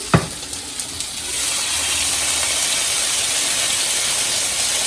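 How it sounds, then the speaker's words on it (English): Italian sausages sizzle in a hot pan, a steady loud hiss that swells after a brief clatter and holds constant, with no talking. "It's been about 20 minutes since the Italian sausages have been cooking."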